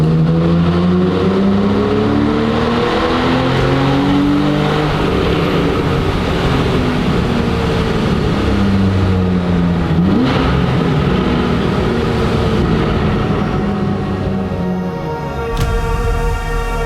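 A McLaren 750S Spider's twin-turbo V8 revs hard inside a small Alpine road tunnel, climbing through gears with rising and falling engine pitch and shift breaks, loud and echoing, ending with a sharp crackle as the throttle lifts.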